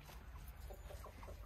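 Soft clucking from hens and roosters in a barn, a few short bursts over a low steady background hum, fairly quiet and close.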